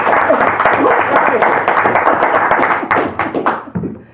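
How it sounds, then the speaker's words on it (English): Loud clapping from an audience at a village board meeting, steady dense hand claps that thin out into scattered individual claps toward the end. "Round of applause for Jim Swanee."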